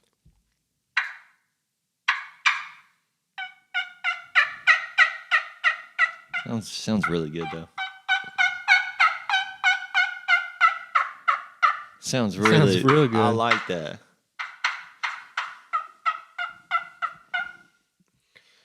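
A hand-blown turkey call imitates a wild turkey's gobble in repeated rapid rattling bursts, with two deeper, louder gobbling rolls mid-clip; someone briefly speaks afterward.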